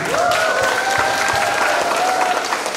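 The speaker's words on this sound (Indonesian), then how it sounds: "tepuk tangan untuk STAI Natuna" Lecture hall audience at a public university talk giving a round of applause, dense clapping at moderate loudness with some crowd voices and a tonal hum running underneath.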